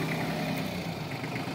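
A New Holland Simba 30 HP tractor engine runs steadily in low second gear, a continuous mid-pitched diesel drone with no change in rhythm and no talk over it.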